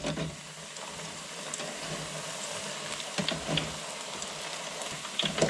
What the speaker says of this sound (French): voilà ma friteuse et l'huile là qui crépite